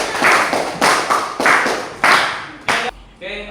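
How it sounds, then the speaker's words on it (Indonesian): Schoolchildren in a classroom clap for classmates in a rhythmic pattern. Six or so loud, short bursts of group clapping come in a steady beat, and a voice speaks at the very end. "beri tepuk tangan buat teman kita."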